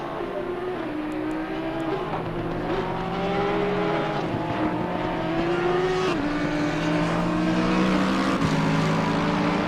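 Ferrari race car engines in an ACC racing game roar continuously with rising and falling revs and gear shifts, several cars droning together at high volume throughout.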